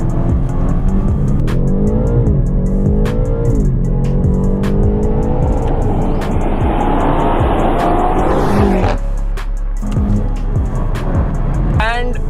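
A 2021 BMW M8 Competition with a 600 horsepower twin-turbo V8 accelerating hard, engine pitch climbing through gear changes in a loud, sustained roar heard from inside the car, with someone talking over it throughout.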